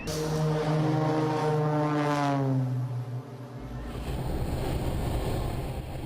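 A fixed-wing airplane making an emergency landing in a wheat field, a loud engine drone with a sweeping downward pitch as it passes close, then rough broadband rumble and rustle, no talking.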